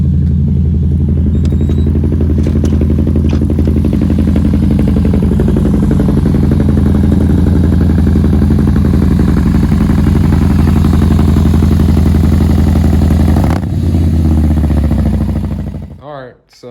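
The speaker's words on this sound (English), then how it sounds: "what we have here is a 2016 Harley-Davidson Softail Slim" A 2016 Harley-Davidson Softail Slim with a 103 engine, intake, 2-into-1 exhaust and cam upgrades idles steadily and loudly up close, its low rumbling throb continuous for most of the run before cutting off near the end.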